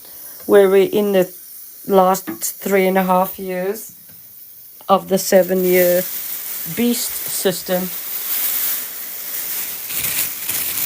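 Radiation shielding paper crackles as it is put up, with a brittle rustle that builds under a voice and then carries on more loudly once the speech thins out.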